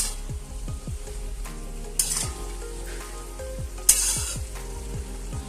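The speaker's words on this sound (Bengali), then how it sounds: "বড়িগুলো দিয়ে আমি আবার নাড়াচাড়া করে নিচ্ছি।" Spinach curry with homemade lentil dumplings fries and sizzles in a pan, a continuous soft hiss broken by a couple of sharper scrapes and clinks as a spoon stirs it, close by.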